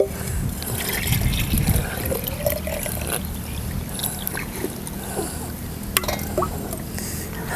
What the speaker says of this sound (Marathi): रताळा धुवून घेते पाणी घेते